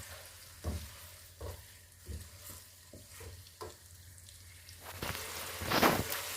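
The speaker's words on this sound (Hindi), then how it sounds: "अब इसे हम ऑयल में भूनेंगे।" About 1.5 kg of chicken fries in hot oil, crackling and sizzling steadily with repeated stirring scrapes and bumps, building to a louder burst of sizzle near the end.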